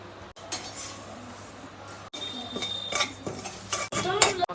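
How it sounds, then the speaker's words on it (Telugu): A metal kadai set down on a kitchen stove, with repeated clanks and clinks of pots and utensils, a few sharp metallic knocks and scrapes standing out over low background hum, no talk. "స్టవ్ ఆన్ చేసి కడాయి పెట్టి"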